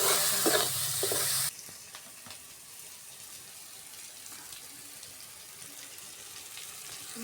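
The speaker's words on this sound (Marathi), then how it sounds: "आता हे वाटण टाकून घ्यायचं यामध्ये. मिक्स कर." Ground spice paste being stirred into hot oil for a village-style tilapia fish curry, with a loud burst of sizzling at first that settles into a softer, steady frying hiss with light scraping stirs.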